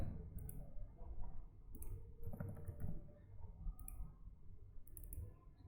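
Quiet computer keyboard typing and mouse clicks while figures are entered into Accurate 5 accounting software, short clusters of crisp taps with pauses between, close and faint with no talk.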